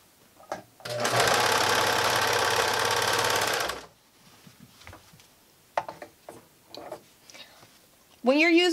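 A serger sews a fabric face mask in one steady, loud burst of about three seconds, then stops; quieter handling noises and brief speech follow, with a voice near the end.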